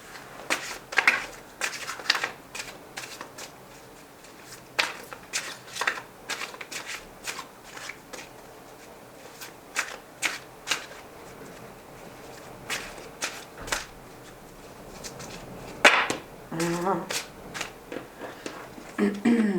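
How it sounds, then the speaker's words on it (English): Stiff, oversized tarot cards are shuffled in uneven bursts of riffling and slapping, with pauses between, close by and fairly quiet. "These cards are so huge. It's difficult to shuffle them."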